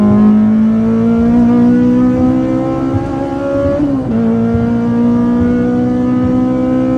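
A Honda Brio fitted with a K24 engine, naturally aspirated, revs hard from third gear, its loud in-cabin engine note climbing steadily, briefly dipping at a shift, then pulling strongly again, no talk.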